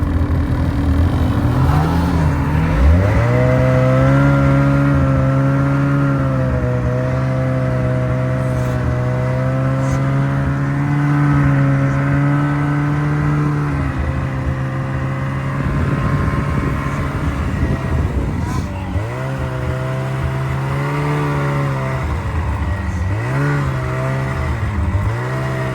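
Snowmobile engine revs loudly while riding in Island Park, rising and holding in long sustained pulls, dipping between throttle bursts and climbing again near and dominant throughout.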